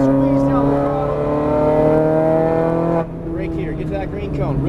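Ferrari 430 Scuderia engine pulling steadily under throttle on a track course, a sustained tonal roar with a rising pitch, briefly dipping near the end before building again; an instructor's voice talks over it.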